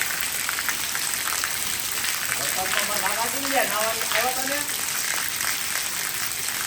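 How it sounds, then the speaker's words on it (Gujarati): Torrential rain falls in Savarkundla, a steady, moderately loud hiss of pouring water, with someone speaking over it for a few seconds midway. "વરસાદ આવ્યો"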